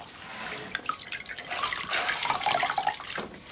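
A wet white towel wrung out over a basin of salted water while cleaning a sheepskin coat, water dribbling and splashing in uneven bursts, close and fairly quiet, with no talking.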